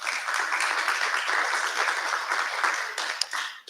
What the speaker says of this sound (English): You can go ahead and give her a round of applause.